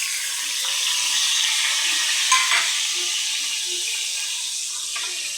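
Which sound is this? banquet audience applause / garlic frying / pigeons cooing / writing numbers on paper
garlic frying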